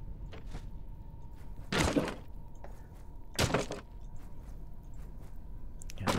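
Furniture being smashed in the video game Stoneshard: two heavy, hollow wooden crashes a couple of seconds apart, with lighter clicks and thuds between them.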